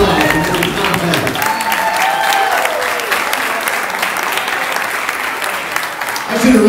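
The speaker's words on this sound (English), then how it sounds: "Please give a bouncing applause for Tom Peck." Steady applause from a sizable crowd, loud and continuous throughout, with a few faint cheers mixed in near the end.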